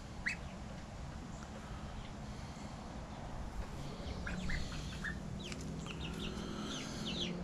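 Nearly full-grown chickens, scruffy-looking after getting wet, cluck and call outdoors, with a few sharper chirps over a steady, noisy background and no talk.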